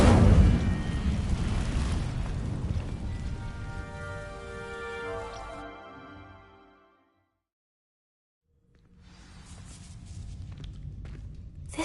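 An Incendio fire spell in a video game sets dry vines ablaze with a loud rushing, crackling roar that slowly fades to silence, then a softer rumbling burst rises again near the end.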